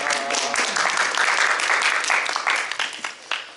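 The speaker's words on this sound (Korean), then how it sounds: "한 박수로 우리 또 우리 반가움을 표시하시겠습니다." Church congregation at a Sunday worship service clapping together in a warm, full burst of applause that swells and then tapers off into a few last claps.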